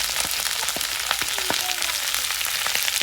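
Mixed vegetables fry in a pan with garlic ginger paste and coriander powder, giving a steady, loud sizzle with crackling pops throughout, no talk.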